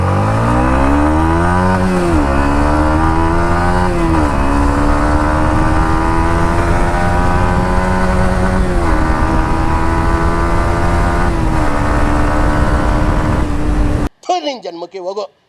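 A Yamaha MT-15 motorcycle ridden at speed, its loud, close engine drone climbing through repeated gear shifts with sweeping pitch steps for about fourteen seconds before cutting out abruptly.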